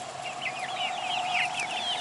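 Backyard chickens cluck steadily in a custom beach-themed coop, several birds overlapping in a busy, continuous chatter that stays close and fairly loud throughout.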